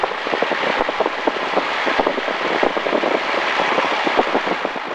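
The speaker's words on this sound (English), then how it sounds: "We have to make sure we have enough power to take off." A small training airplane engine runs at full power before takeoff, heard from inside the cockpit as a loud, steady propeller drone with rhythmic pulsing throughout.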